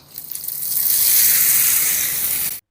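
A loud sizzle bursts up as onion-tomato chutney hits a hot oil tempering with asafoetida, holding a steady crackling hiss for a couple of seconds before cutting off.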